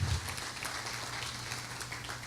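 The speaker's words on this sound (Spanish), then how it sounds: "Vamos a darles un aplauso" Church audience applauding married couples during a sermon, a faint, even wash of clapping heard at a distance.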